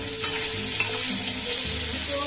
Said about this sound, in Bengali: নিয়ে চিংড়ি মাছগুলো ভাজবো।